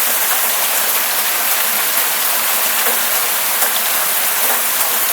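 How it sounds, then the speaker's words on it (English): Hail pelting a street during a violent Colorado summer storm, a dense, steady hiss of countless pellets striking pavement, loud and continuous for the whole stretch with no voices. "The street's almost completely covered in hail."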